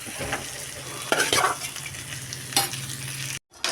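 Leafy greens fry with a steady sizzle in a pan while a spoon stirs and scrapes them in irregular strokes, close and alone, with a brief drop to silence near the end.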